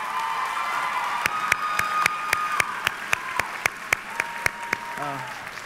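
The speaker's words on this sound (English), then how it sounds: "please join me in a round of applause for those who have enabled us to reach this stage" At the Lincoln College Preparatory Academy 2022 commencement, an audience claps for the families and supporters of the graduates. Crowd applause washes through the room while one loud, nearby pair of hands keeps a steady, regular beat, and a brief voice follows at the end.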